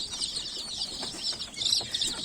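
Newly bought ornamental chickens and roosters cluck and chirp in a coop, a busy overlapping chatter of bird calls at moderate distance with no voices.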